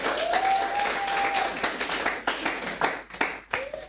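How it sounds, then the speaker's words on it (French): A church congregation applauding, a burst of close, uneven hand claps with a voice calling out over the start, tapering into scattered claps. "Est-ce qu'on peut applaudir pour la servante de Dieu?"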